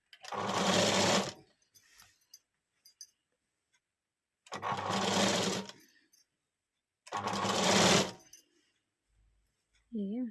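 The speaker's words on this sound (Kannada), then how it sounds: "ಹೀಗೆ ಸ್ಟಿಚ್ ಹಾಕೊಂಡು ಬರಬೇಕು." An electric sewing machine stitches a frill onto a puff-sleeve blouse in three separate bursts of steady whirring, each lasting one to two seconds with quiet gaps between, and a brief voice enters at the very end.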